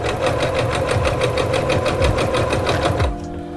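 Singer C430 sewing machine stitching a straight seam through fabric, a fast, even mechanical chatter running loud and close for about three seconds before the needle stops and the motor winds down.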